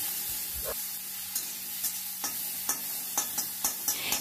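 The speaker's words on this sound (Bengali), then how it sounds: "যে 1খানা পেঁয়াজ আমি গ্রেট করে রেখেছিলাম সেটা দিয়ে দিলাম, দিয়ে একটু নাড়াচাড়া করে নিচ্ছি।" One grated onion sizzles steadily in a hot pan while a spoon stirs it, giving a run of regular scraping taps over the constant frying hiss, close and without any talk.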